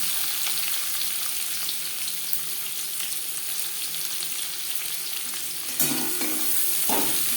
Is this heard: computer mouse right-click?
no